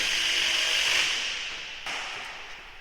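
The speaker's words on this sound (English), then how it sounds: "We are about to cut our 2x2 tubing to length." A power tool cuts 2x2 steel tubing to length with a bright, sustained high-pitched grinding whine that fades slightly toward the end, fairly close and without speech.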